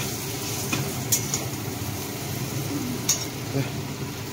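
Steady sizzle of aloo dum cooking in a pan, with occasional light utensil clinks and scraping over a low background hum.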